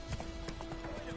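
Roach the horse galloping in The Witcher 3 video game, a steady rapid clip-clop of hooves running close for a moment, with a brief snort or whinny mixed in.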